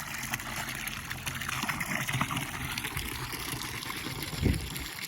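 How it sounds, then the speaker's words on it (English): Water runs out of two pool leaf canister hoses as they are lifted slowly, a steady close trickle and gurgle with a brief heavier splash near the end. "You can pick this up slowly, let all the water run out."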